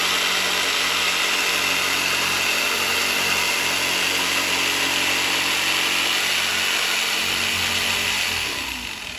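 Continuous loud whine of a power tool cutting trim to fit LED headlights on an EZGO golf cart, a steady high-pitched buzzing roar held for several seconds before tapering off at the end.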